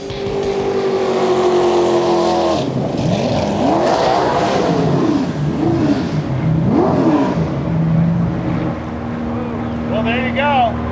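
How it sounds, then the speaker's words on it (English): Unlimited-class jet boat racing engines roar continuously and loudly, with pitch sweeping up and down as boats race upriver at the 2000 World Jet Boat Race, while a commentator talks over them. "The Unlimited field is set and racing is underway with New Zealand's Robert Thompson"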